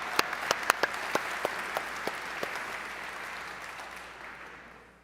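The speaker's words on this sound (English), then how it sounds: "Can we just give a round of applause for all new contributors?" Audience at the Laracon US developer conference in Boston claps for new contributors, a few sharp individual claps rising into broad applause that gradually fades out.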